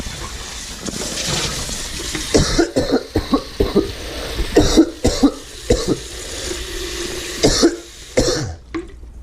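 A man coughs repeatedly in a run of harsh, close bursts with throat clearing, recorded on a GoPro, the hacks coming in uneven clusters over several seconds.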